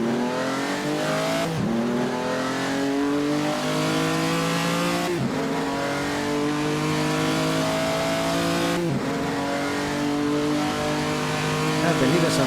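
Simulated 1949 postwar race cars at the Noris-Ring Grand Prix in Assetto Corsa, loud and close, with engines revving up steadily through repeated gear changes at regular intervals.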